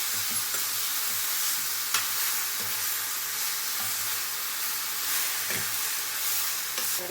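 Chicken sukkha stirring and frying in a pan, with a steady close sizzle broken by scraping stirs and soft utensil knocks throughout, no voices.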